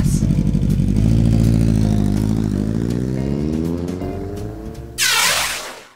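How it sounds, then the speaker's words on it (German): A car engine revving up hard as the driver floors the gas, a loud steady drone that climbs in pitch over several seconds, then a sudden burst of broadband noise near the end before it cuts off. "Los, Jenny, gib mal Gas."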